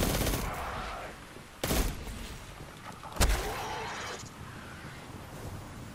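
Submachine gun in Destiny 2 fires in rapid bursts, sharp clusters of cracking shots separated by short pauses, loud and close.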